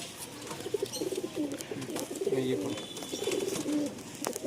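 An aggressive pigeon coos in a series of low, throaty calls close by, with faint background noise and scattered bird sounds.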